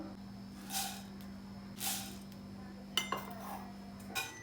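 Quiet, rhythmic scraping strokes in a metal wok as puffed rice is dry-roasted over a medium flame, with a couple of light clinks over a low steady hum.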